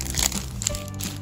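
Plastic wrapping crinkles and crackles as a large laundry net package is opened, a short burst of close, fairly loud rustling with no talk.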